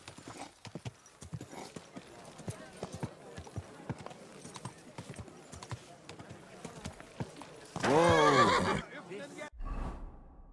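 A horse in the video game Kingdom Come: Deliverance 2 clops steadily on hooves for several seconds, then lets out one loud whinny near the end, with faint voices in the background.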